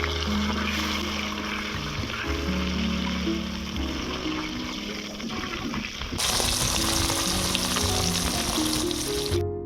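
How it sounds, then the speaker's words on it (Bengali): Fish sizzles steadily in a hot pan of oil after being flipped, a continuous crackling hiss with watery bubbling that grows brighter and louder partway through, heard close up with no voices. "মাছগুলোর একটা সাইড ভালোভাবে ভাজা হয়ে গিয়েছে, এবার আমি মাছগুলোকে উল্টে দেবো"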